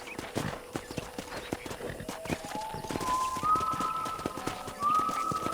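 Horse hooves clip-clop in a steady rhythm during a ranch ride in the Western video game Red Dead Redemption on PS5, close and even, with faint tonal game sounds rising behind them.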